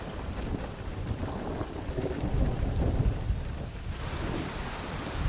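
Steady heavy rain with low rumbling thunder rolling through, a dense continuous wash of noise with no voices.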